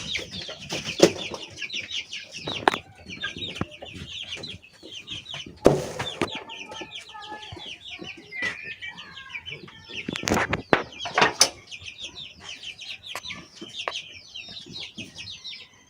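Chickens on a poultry farm, both local and foreign breeds, cluck and chatter almost constantly from close by, with a few louder squawks and brief bursts of wing flapping.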